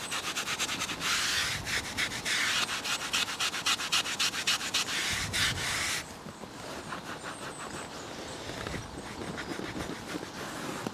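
Magic eraser scrubbed firmly across worn leather interior of a Bentley Turbo R, a steady rapid rubbing with rhythmic strokes, louder at first and then softer and lighter after a pause partway through.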